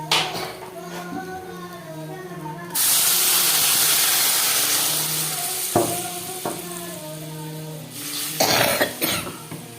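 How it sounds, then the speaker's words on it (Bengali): Water poured into a hot pan of fried fish roe sets off a sudden loud hiss of steam that holds for several seconds and slowly fades, with a voice murmuring before and after. "এর মধ্যে এবার আমি পরিমাণ মতো জল দিয়ে দেবো"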